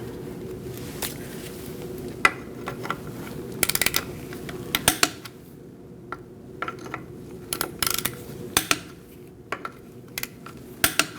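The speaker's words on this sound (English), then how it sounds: "We're going to torque our wheel to 103 foot-pounds." Torque wrench tightening the front wheel lug nuts on a 2004-2012 Chevrolet Colorado, with sharp metallic clicks and ratchet snaps scattered irregularly over a low garage hum, close and crisp.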